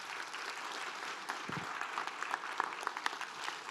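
Audience applause fills a room at a university master plan unveiling, steady and dense clapping throughout, with a few louder claps standing out and no talking.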